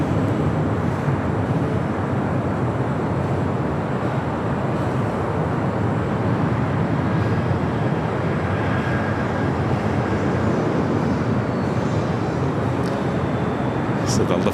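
A Lufthansa Boeing 747 jet passes near an airport runway as a steady, broadband roar that holds evenly loud for the whole stretch, with faint voices mixed in beneath.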